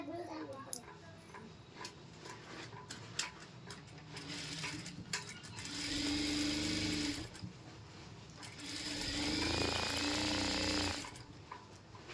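A sewing machine stitching a chudidar top, running in two sustained whirring bursts with ticking mechanical clicks between them, close by, while someone talks over parts of it.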